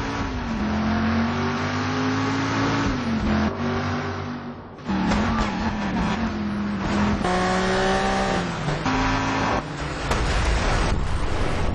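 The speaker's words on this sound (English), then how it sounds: "He's driving his own car, 1970s Dodge Challenger RT." A 1970s Dodge Challenger R/T V8 roars through a chase in the video game Driver, its engine note loud and close, rising and falling with gear shifts and revving throughout, with one brief dip near the middle.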